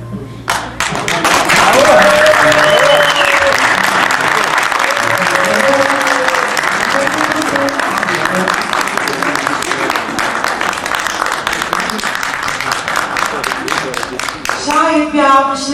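A concert audience at a Turkish zeybek folk music performance breaks into loud, sustained applause that fills the whole stretch, with some rhythmic clapping near the end and voices faintly mixed in.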